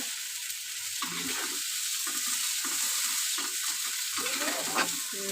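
Water poured into a hot pan for a parshe fish curry hisses into a steady, bright sizzle, with soft stirring bubbles underneath, close and continuous, with no voices.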